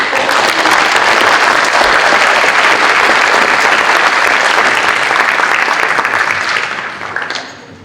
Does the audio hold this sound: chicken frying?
no